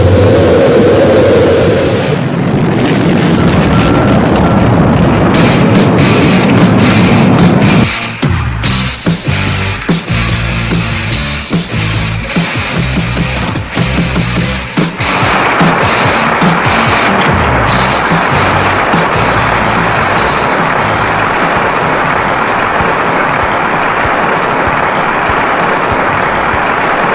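A rocket's main engines ignite at launch, swelling into a loud, broad roar that holds after a sharp mid-way shift in the rumble, continuous and overwhelming.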